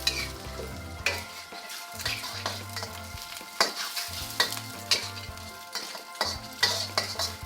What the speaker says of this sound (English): Then chuck in the lap cheung and chuck in the fish cakes. Cook these up for a little bit.